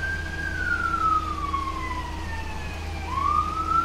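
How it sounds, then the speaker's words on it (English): A police car or ambulance siren wailing outside near a main road, a faint distant tone sliding down and then back up over a steady low hum. "Apparently there is a police car or a ambulance outside"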